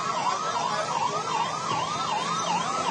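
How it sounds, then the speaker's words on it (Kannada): Fire engine siren wailing steadily and loudly as emergency vehicles arrive at the Ahmedabad plane crash site, a continuous rising-and-falling tone with no talk over it. "ಅಲ್ಲಿ ಅಗ್ನಿಶಾಮಕ ದಳ ಸಿಬ್ಬಂದಿಗಳು ಆಗಮಿಸ್ತಾ ಇದೆ, ಆ ವಾಹನಗಳು ಕೂಡ ಆಗಮಿಸ್ತಾ ಇರುವಂತ ದೃಶ್ಯವನ್ನ ಗಮನಿಸ್ತಾ ಇದ್ದೀರಿ"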